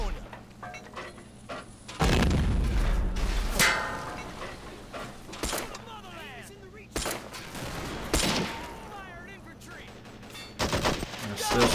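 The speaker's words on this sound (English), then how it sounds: "I'm going to open up the howitzers again just for good measure" Howitzer artillery barrage in the World War II strategy game Men of War at Carentan, with heavy booming blasts and scattered gunfire rolling through the battle, loud and repeated, while someone talks over it.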